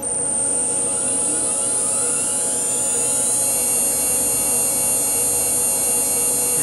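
A coolant pump on a PrintNC CNC machine hums steadily, pushing fluid through the lines, with a constant high-pitched whine over a low drone and no break throughout.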